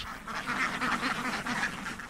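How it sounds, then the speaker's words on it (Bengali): Ducks quacking across a wetland, a dense overlapping chorus of nasal calls from a large flock, fairly close and continuous. "বিল জুড়ে শুধুই হাঁস।"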